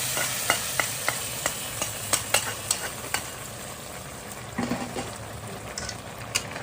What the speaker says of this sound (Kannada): ಒಳ್ಳೆ ಫ್ರೈ ಕೊಟ್ಟು ದ್ರಾಕ್ಷಿ ಗೋಡಂಬಿಗೆ